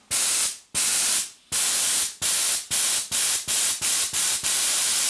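Compressed air blasts from an air gun on a PEX shop air system at 4 bar, a series of loud close hissing bursts that start long and become shorter and quicker, with no talk.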